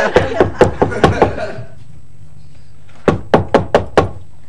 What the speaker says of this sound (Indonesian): Pasti nih si Mila nggak mau bukain pintu